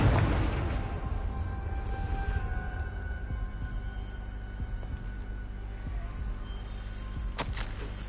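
A Confringo fire spell bursts in Hogwarts Legacy gameplay: a loud booming blast at the start that decays into a long rumbling tail, with a second sharp crack near the end.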